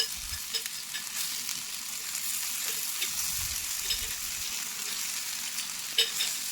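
Brinjal pieces frying one by one in coconut oil in a pan, a steady close sizzle with occasional bubbling pops and a brief louder crackle near the end, no voices.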